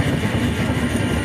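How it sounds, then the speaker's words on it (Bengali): From inside a second-class seating coach of the 12821 Shalimar–Puri Dhauli Express, a steady loud rolling rumble sounds as the train passes New Garhmadhupur station. "নিউ গড়মধুপুর স্টেশন ক্রস করছে এখন আমাদের ট্রেন।"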